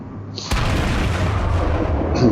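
A single heavy naval gun firing from the USS Colorado battleship in World of Warships, a sudden loud boom followed by a sustained rumbling roar that carries on for nearly two seconds.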